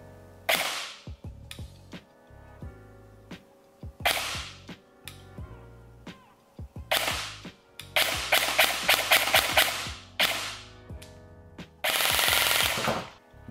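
A KWA TK.45C airsoft pistol test firing, with sharp close clicks and pops: single shots at first, then a fast automatic burst of about eight shots and a final short run.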